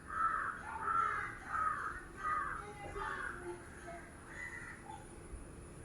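A crow caws about six times in a steady series, close and clear at first, then fading to softer calls, with no other sound.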